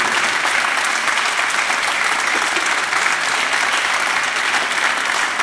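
Steady, dense applause from a concert audience at a show, loud and unbroken throughout with a crowd-wide wash of clapping.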